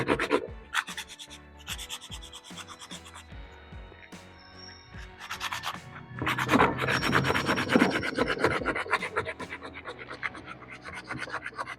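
Sandpaper rubs back and forth on a PVC toy gun scope rail, a steady close scratchy rasp in repeated strokes that grows louder and denser partway through, with no talking.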